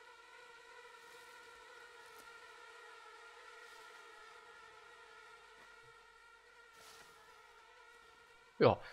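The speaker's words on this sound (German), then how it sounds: "Ja, es gibt anscheinend in The Forest auch Bienen oder ähnliches oder Fliegen." Insects such as bees or flies buzz steadily in the video game The Forest, a thin droning hum with layered tones holding evenly throughout, then a brief louder rising sweep at the very end.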